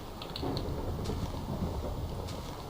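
Steady rain and rumbling thunderstorm ambience in a survival video game set on an island at open sea, a continuous dense wash with low rolling rumble throughout.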